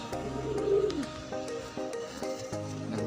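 Pigeons coo close by in soft, repeated throaty calls over about three seconds, with a few light background clicks and no talking.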